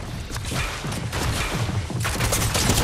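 Sustained rapid burst-weapon gunfire in the video game Fortnite, Unreal Ranked Reload squads, filling the whole stretch as a dense, loud, continuous rattle of overlapping shots with no talk.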